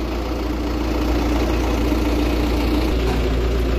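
A new 5-ton forklift with a Mitsubishi engine idles nearby, a steady loud low rumble with an even mechanical drone and no talk over it.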